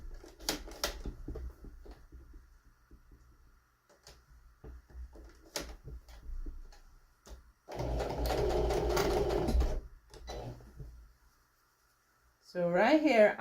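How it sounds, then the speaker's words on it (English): A sewing machine runs in one short burst of about two seconds while stitching bias tape onto fabric, a close buzzing whir amid quiet handling clicks and rustles. "and then we just stitch it on."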